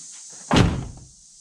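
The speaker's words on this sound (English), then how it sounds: "So we'll shut this one, see if it opens from the inside button." A car door with shaved handles on a third-generation Chevrolet Camaro is shut once with a single firm, close slam that fades quickly, against a faint steady hiss.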